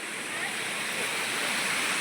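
A waterfall roars in a steady, dense rush of broadband noise, close and constant throughout on a rainy outing.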